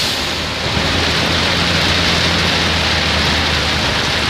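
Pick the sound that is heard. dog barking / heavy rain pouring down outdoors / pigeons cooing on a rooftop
heavy rain pouring down outdoors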